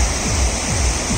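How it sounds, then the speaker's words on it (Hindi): Treated drain water from a sewage treatment plant pours steadily into the Ganga river at Varanasi, a loud, continuous rushing roar like a small waterfall with no voices over it. "80 नाले का जो पानी है वो देख लीजिए कितना शुद्ध होके निकल रहा है बाहर, और ये गंगा जी में जा रहा है"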